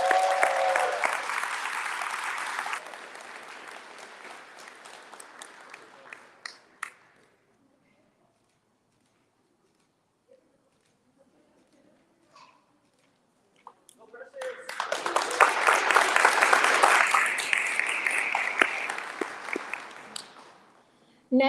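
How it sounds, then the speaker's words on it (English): Audience applause at a 2022 District 9 State of the District civic gathering comes in two loud, sustained bursts of clapping separated by a quiet stretch of several seconds. "Please give a warm applause to Precious."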